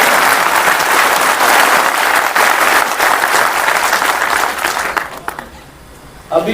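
Loud, dense applause from a crowd of railway employees at a gathering, steady clapping that tapers off near the end into quieter room sound.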